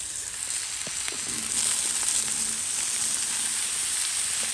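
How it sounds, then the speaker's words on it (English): Smoked sausage sizzles and fries steadily on a Blackstone griddle with vegetables, a continuous close hiss with occasional light stirring clicks and no talking. "we're gonna throw down our smoked sausage"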